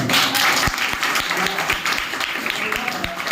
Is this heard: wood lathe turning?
no